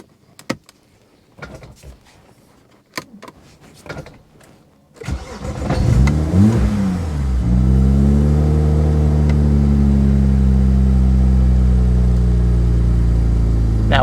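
A BMW E30 fitted with an N54 engine, suffering a blue exhaust smoke problem, starts up after a few clicks and door sounds, then settles into a steady, loud idle that rises slightly as the throttle is given a little gas.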